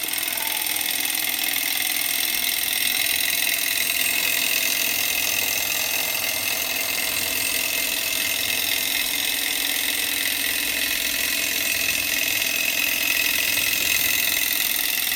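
A cheap Chinese Stirling engine runs steadily, turning a small generator through a plain rubber drive band, giving a continuous faint whirring hum with a bright, even hiss and no pauses.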